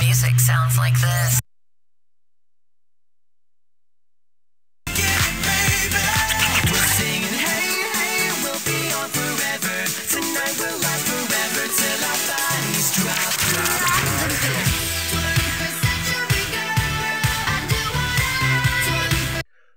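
Full-band pop music track for a top 40 radio commercial, loud and continuous with steady beat and dense instrumentation, starting after a short burst and a few seconds of silence.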